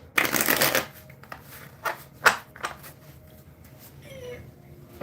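A deck of oracle cards is shuffled up close in a quiet room, starting with one loud riffling burst followed by several short, sharp card snaps and shuffles, with a cat meowing briefly near the end.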